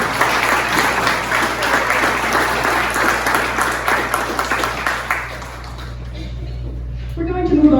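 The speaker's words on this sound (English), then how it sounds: "Let's give a round of applause for our candidates." A forum audience applauds the candidates at the Town of Bridgewater 2024 candidates forum, sustained loud clapping for about five seconds that dies away, followed by room noise and a voice starting to speak.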